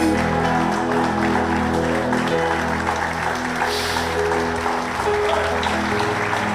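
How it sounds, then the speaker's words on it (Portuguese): A church congregation at a Portuguese-language service stands and applauds, continuous crowd clapping over sustained musical tones, a steady wash of hands with no spoken words. "Você pode ficar de pé no seu lugar e aplaudir a Ele."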